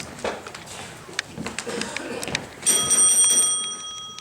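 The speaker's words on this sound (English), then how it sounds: "You can ring for the nurse if you like. There's a bell right over there" A bell is rung to summon a nurse in a stage play set in Detroit, ringing out in a bright sustained peal after a series of clicks and knocks.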